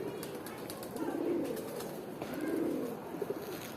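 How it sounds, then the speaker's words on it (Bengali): Male pigeon cooing close by in a soft, low, rolling coo, with two swelling phrases about a second apart over faint background noise. "এটা হচ্ছে নর কবুতরটা,"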